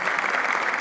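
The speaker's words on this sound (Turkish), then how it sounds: "Kendimizi alkışlayalım." An audience claps at a Sufi music and poetry recital in Şanlıurfa, a dense, continuous burst of crowd applause filling the hall.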